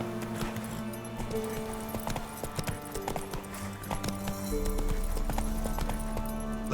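Hooves clip-clop steadily as the horse Roach gallops in The Witcher 3, a fast, rhythmic beat under a layered musical score that swells louder toward the end.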